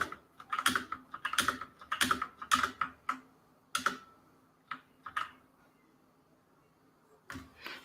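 Fast bursts of computer keyboard typing while code is copied, clustered clicks up close that thin into sparse single taps and a pause before a last keystroke, no voices.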